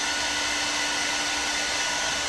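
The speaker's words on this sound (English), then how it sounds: "Give it a little heat to dry it off again when it's definitely cold outside." A hair dryer or heat gun blows hot air steadily to dry Plasti Dip on a cold day outdoors, giving a loud, constant whooshing hiss with a faint motor whine and no pauses.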